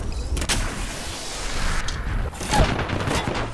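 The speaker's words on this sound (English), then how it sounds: "The enemies are shooting at me" Enemy gunfire in the Apex Legends battle royale game on PS4 Pro, with a rapid fusillade of sharp shots and broadband bursts spread across a few seconds over a steady rumbling game mix.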